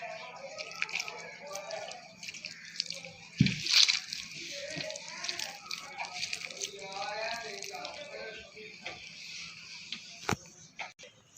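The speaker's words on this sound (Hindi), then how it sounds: "अब इसके अंदर दोबारा से थोड़ा सा पानी डालेंगे" Water is poured into dough and worked in by hand while kneading for chicken shawarma, with soft sloshing, drips and wet squelches scattered throughout, plus occasional clatters, as someone speaks over the sounds.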